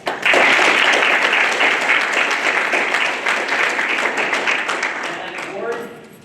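An audience at a justice symposium applauds, sustained loud clapping from many hands for several seconds that fades out at the end.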